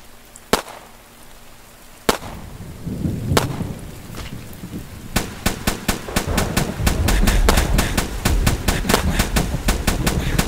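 Pistol shots in the survival game Hold Your Own start as a few spaced, sharp cracks and then speed up into a rapid string of loud shots over a rumbling, noisy background.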